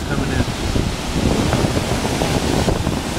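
Huge ocean surf, waves of roughly eight to ten feet, crashes and roars continuously nearby at PB, with wind buffeting the microphone throughout.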